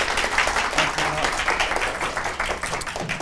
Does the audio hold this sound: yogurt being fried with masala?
no